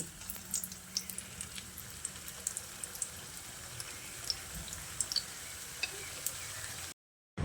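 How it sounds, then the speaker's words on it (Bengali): Egg and boiled-potato snack pieces fry in hot oil, a faint, even sizzle with scattered small ticks and pops that runs steadily and then cuts off abruptly. "গরম তেলের মধ্যে একে একে ছেড়ে দিচ্ছি"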